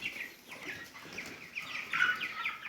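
Several chickens cluck and chirp softly at a slight distance, scattered overlapping calls against quiet outdoor background.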